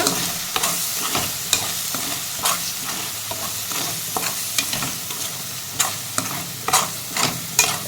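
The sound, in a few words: sautéing chilli powder for egg curry in a pan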